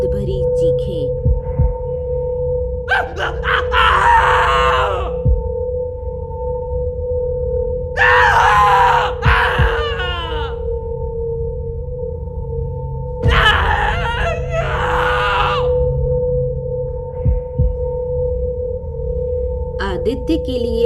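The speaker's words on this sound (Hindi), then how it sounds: "रात में भूतिया आवाजें, खिड़कियों से झांकते अजीब चेहरे और अंदर से आने वाली दर्द भरी चीखें।" Three groaning, wailing cries rise in separate bursts a few seconds apart, set against a steady eerie drone, evoking painful screams from a haunted hospital in a horror story.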